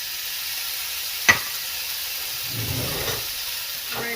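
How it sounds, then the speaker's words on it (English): Bacon sizzles and hisses steadily in a hot pan, with a sharp clink near the start and a brief stirring rustle later, no voices. "We're gonna add our bacon."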